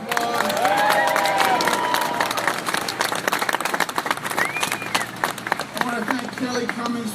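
Audience at the dedication of the new Kosciuszko Bridge applauding and cheering outdoors, a dense burst of clapping that thins into scattered claps and crowd murmur, with a voice heard over it.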